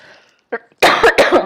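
A short cough, then a louder run of harsh coughs in quick succession, close and abrupt.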